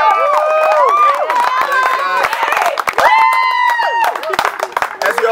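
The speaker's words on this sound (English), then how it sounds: "Give a clap for Dave and Heather Garvey." A small audience claps and cheers in a short burst for a couple at a live trumpet event, with excited voices and chatter mixed through the applause.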